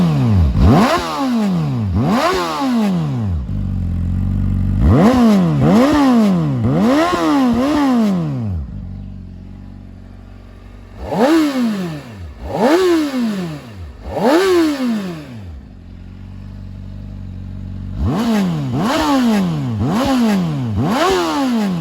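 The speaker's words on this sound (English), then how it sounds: "Let's have a little listen to the exhaust note on the 600RR." A 2024 Honda CBR600RR sport bike is revved hard in repeated bursts, its exhaust screaming up and dropping back in quick swoops, with short idling gaps and a few choppier blips between the loud runs.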